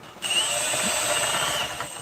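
A power drill bores into marble with a steady, loud, high-pitched whine that runs continuously for about two seconds, close and alone.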